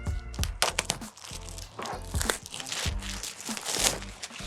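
Close crinkling and ripping as a tear tab is pulled on the cardboard packaging of a Surface Laptop Go 3, a series of sharp tearing bursts and rustles in uneven rhythm.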